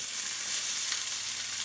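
Onions hiss in a skillet of hot canola oil for a habanero hot sauce, a close, steady, bright sizzle with no pauses and no voices.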